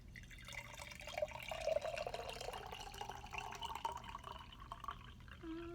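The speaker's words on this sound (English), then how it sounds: "we're going to pour some water into our jar" Water pours steadily into a jar as a continuous, moderately faint trickle that changes pitch slowly while the jar fills, with no talking.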